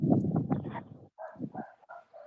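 Dog barking close by in a quick burst of several loud barks, followed by a few shorter, lighter yips and whimper-like calls.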